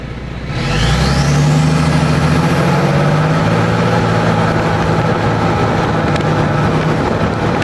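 A Duramax diesel truck with no muffler pulls away, its raw exhaust swelling from a rumble into a loud, sustained, gravelly roar that holds steady and close.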